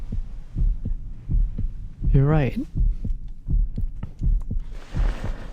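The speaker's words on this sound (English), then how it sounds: "feeling her heart pounding louder and louder" In the video game Reverse 1999, a heavy heartbeat pounds in a slow, steady double-thump rhythm, loud and close, with a short spoken line and a warbling tone midway.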